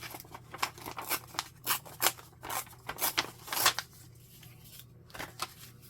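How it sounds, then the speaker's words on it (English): Paper is torn by hand from a printed copy of a vintage envelope, giving a series of close, short ripping bursts in an uneven rhythm, then a quieter pause and a few softer tears. "We're just going to have a little tear."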